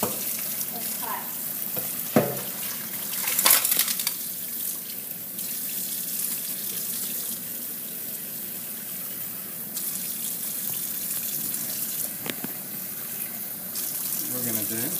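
Cold tap water runs steadily from a faucet into a sink beside a frosted pipe, a continuous broadband hiss with a few brief clanks and splashes.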